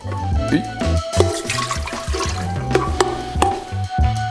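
Water pours into a Russell Hobbs Distinctions electric kettle, a close, gurgling, splashing stream running steadily for several seconds with shifting watery tones.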